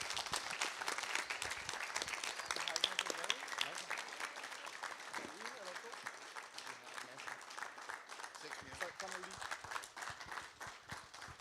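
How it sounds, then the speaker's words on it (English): Applause from a network operators' conference audience for its organizers fills the room, steady scattered clapping at moderate distance, with some people talking and calling thanks over it. "very big round of applause"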